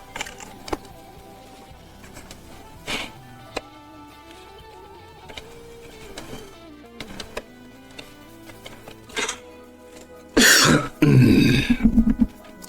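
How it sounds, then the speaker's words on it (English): A person coughs and clears their throat close to a microphone during a late-night livestream, with two loud harsh bursts near the end after quieter scattered clicks and background sounds. "Sorry, I'm coughing in the mic."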